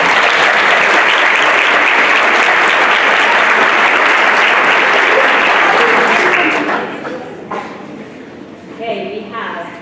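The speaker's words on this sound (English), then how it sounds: "Let's give her a round of applause." A board of education meeting audience applauds students, a dense, loud wash of clapping for about six seconds before it thins out and fades into murmuring.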